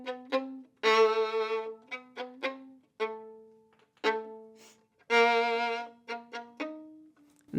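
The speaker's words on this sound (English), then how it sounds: "You'll record the cello part." Solo cello line from the scherzo of Schumann's Symphony No. 2, played alone with two long bowed phrases, each followed by quick, bouncy detached notes, clear and close.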